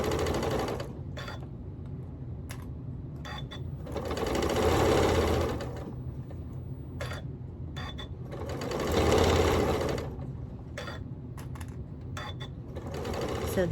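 A sewing machine stitches down a sashing strip while joining quilt-as-you-go rows, running in steady bursts with two longer, louder stretches of close, rapid whirring.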